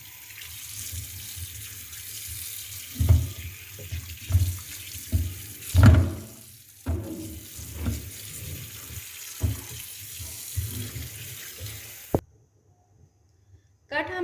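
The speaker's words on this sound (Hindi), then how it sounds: "सबसे पहले हमने रान को अच्छी तरह से वॉश करना है।" A kitchen tap runs while a mutton leg (raan) is rinsed under it, water splashing and gushing unevenly with bursts as the meat is turned, then the flow cuts off near the end.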